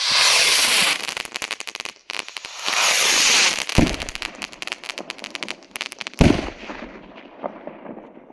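New Year's Eve firework rockets, large crackling rockets, launching and bursting in dense volleys with crackle and sharp bangs, loud and sustained with brief gaps.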